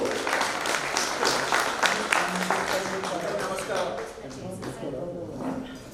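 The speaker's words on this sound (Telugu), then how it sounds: "సార్ ఒకసారి గట్టిగా చప్పట్లు." Audience applause at a school alumni get-together on stage, a sustained burst of clapping from a gathered crowd that fades toward the end, with voices talking over it.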